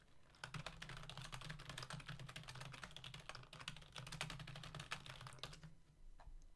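Someone types notes on a computer keyboard, a quick close run of soft key clicks that stops briefly near the end.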